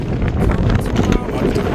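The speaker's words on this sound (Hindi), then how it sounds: "भाई साहब क्या हवा चल रही है।" Strong wind at Chicham Bridge in Spiti Valley, loud gusting and rumbling buffeting against the microphone throughout.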